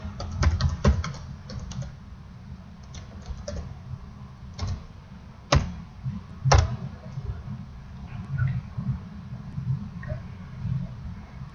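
Close computer keyboard typing as a website address is entered in a browser bar: quick bursts of key clicks with short pauses, over a steady low background hum.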